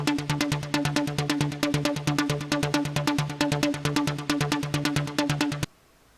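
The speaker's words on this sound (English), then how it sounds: "with oscillator 2 on, it does sound like a bit more of an interesting sound, a little bit sharper, a little bit more aggressive" A synth pluck patch from VPS Avenger, layering two oscillators with resonance, delay and reverb, fires a fast, even run of short, bright notes at steady moderate volume before cutting off abruptly into near silence.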